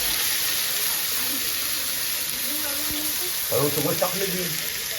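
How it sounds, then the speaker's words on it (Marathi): Ground masala paste roasts in a pan with a constant, close sizzling hiss, and a voice speaks briefly toward the end. "वाटण भाजून घ्यायचं आहे"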